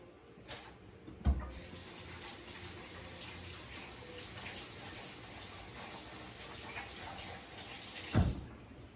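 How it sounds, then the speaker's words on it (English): Tap water gushes into a kitchen sink as hands are washed, starting with a knock from the handle and ending with another clunk when it is shut off, a steady close stream. "Let me wash this off my hands."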